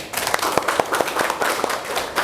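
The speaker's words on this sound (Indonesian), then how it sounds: "kasih tepuk tangan dulu" Students in a classroom clap together in applause, a quick run of sharp hand claps over a couple of seconds against a busy room background.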